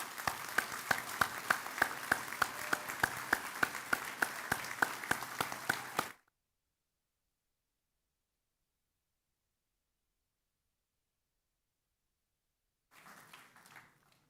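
Graduation ceremony audience at UWTSD Carmarthen clapping together in a hall, a dense, steady burst of applause lasting about six seconds, then silence, followed by a softer, brief resumption of clapping near the end.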